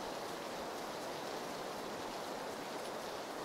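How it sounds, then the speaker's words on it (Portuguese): Steady rain in the battle royale game PUBG, an even, hissing wash of falling water with no distinct drops, soft and constant throughout. "Tem a chuva também, né?"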